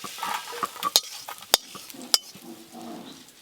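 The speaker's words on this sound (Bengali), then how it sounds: "এদিকে চিংড়ি মাছগুলো খুব ভালো করে ভাজা হয়ে গেল" Prawns fry in mustard oil in a pan, with a soft sizzle broken by sharp clinks and scrapes of a spatula stirring against the metal, close and uneven in rhythm.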